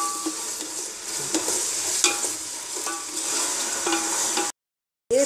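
Tomatoes sautéing in a pan for chicken biryani, a steady broad sizzle with scattered spoon scrapes and clicks, then an abrupt silence before the frying briefly returns.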